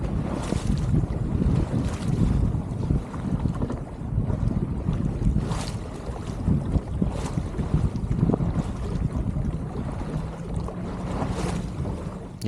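A sailboat with new custom sails moves across a lake in steady wind, with continuous gusty wind rushing over the microphone and water washing and slapping against the hull, no voices.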